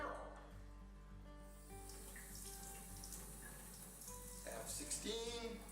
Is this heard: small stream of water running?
yes